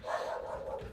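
A dog barks, a single drawn-out, whining bark heard fairly close and moderately loud with no talk over it.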